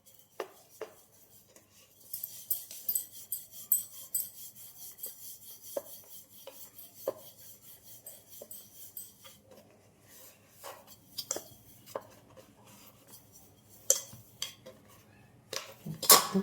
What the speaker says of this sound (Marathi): आता एकदम हलक्या हाताने परत आपण लाटूया.